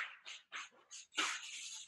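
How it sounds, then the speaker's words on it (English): A dog yips and whimpers in a quick series of short, sharp barks indoors, fairly faint and close, ending in a longer excited whine. "somebody's barking."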